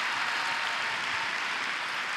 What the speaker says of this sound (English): can you clap your hands again for the Lord?